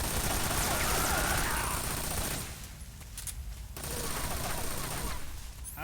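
Sustained automatic gunfire during a Metal Gear Solid 3 boss fight, loud and dense for about two seconds, dropping to a lull, then resuming as a continuous rattling barrage.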